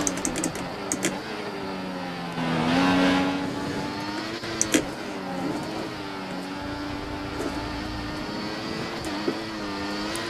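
Race car engine in a racing game at the British GP: a steady, high-pitched engine note climbing through gears, with a brief louder surge of revs and occasional sharp shift clicks.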